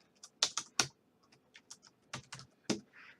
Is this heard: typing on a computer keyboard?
yes